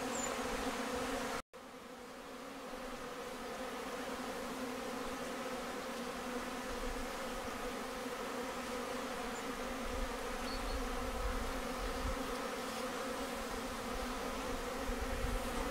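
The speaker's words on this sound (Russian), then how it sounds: "Те ульи, которые на солнце стоят, подогрелись, в них пчелы выходят на облет." Honeybees fly out of sun-warmed hives on a calm February day, a steady, dense buzzing hum that carries on throughout with a light breeze and no voices.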